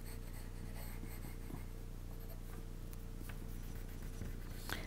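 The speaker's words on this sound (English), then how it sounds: "and I'm just using a woodless pencil." A woodless pencil scratches and rubs across paper while a figure is drawn, faint close strokes in irregular bursts over quiet background hiss.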